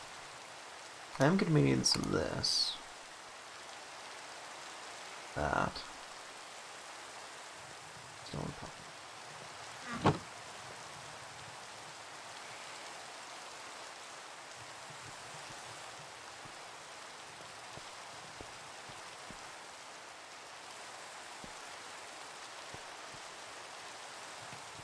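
Steady, faint Minecraft rain hisses throughout with no breaks, while someone speaks briefly and a few sharp game sounds stand out near the start.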